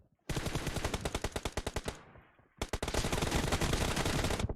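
Rapid automatic gunfire in a video game M24 challenge rattles out in two long, loud bursts separated by a short pause.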